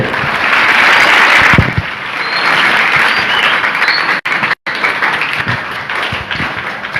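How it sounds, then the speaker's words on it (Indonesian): Loud audience applause at an Indonesian Islamic study event before a poetry talk, a dense burst of clapping that dips briefly, resumes and thins out with scattered claps and a couple of sharp dropouts. "Mengisi materi, tepuk tangan dulu"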